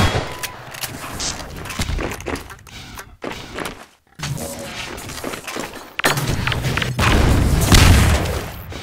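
Loud booms and gunfire fill a Half-Life 2 Deathmatch fight, with an explosive barrel blowing up among them, a brief silence, then more close blasts and heavy shooting.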